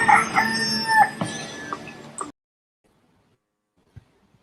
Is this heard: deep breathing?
no